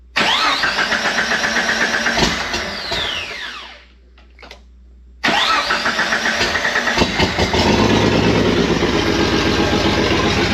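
A car engine with a bad crank sensor runs roughly with an uneven, stumbling rhythm, cuts out briefly, then restarts and keeps idling with a choppy misfire, close by.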